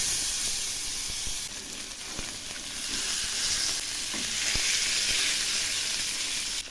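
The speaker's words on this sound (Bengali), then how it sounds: "তেল গরম হয়েছে, এবার আমি মাছগুলো ছেড়ে দিচ্ছি।" Steady crackling sizzle of small shorputi fish frying in a little hot oil, continuous and close, with a few sharp pops and spatters scattered through.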